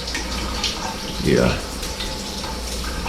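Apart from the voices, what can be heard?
hotel shower head running water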